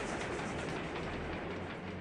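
A train rumbles steadily along its rails in the video game Resistance 3, a continuous rolling drone with faint rhythmic clatter, no voices.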